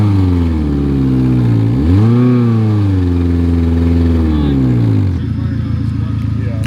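A lifted Mazda Miata stuck off-road revs hard in a loud, sustained run, pitch climbing and falling as the engine strains, then dropping to a rougher idle-like drone with clatter.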